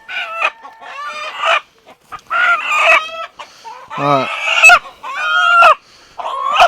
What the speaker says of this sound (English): This is the Polish rooster.